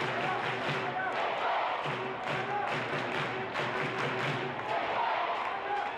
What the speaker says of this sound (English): The crowd are up now off the back of that Manchester City equaliser.